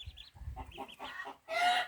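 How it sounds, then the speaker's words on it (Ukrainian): Several ducklings chirp and peep in high, quick notes close by, ending in a louder burst of peeping. "Ось у нас такі каченятка."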